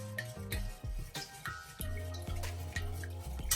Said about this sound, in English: Then we're going to go ahead and mix this up